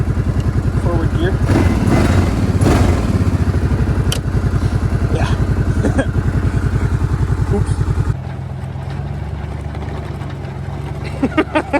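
Kawasaki Brute Force 750 ATV engine with a damaged drive belt, running loud and close with a steady rough, rattling drone, then dropping to a lower, quieter idle partway through with a few clattering knocks at the end.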